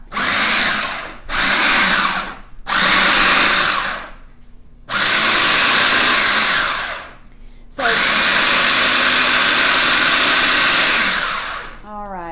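Food processor pulsing chimichurri sauce in a kitchen: loud whirring bursts in a stop-start rhythm, three short pulses then two longer runs, close by with no talking.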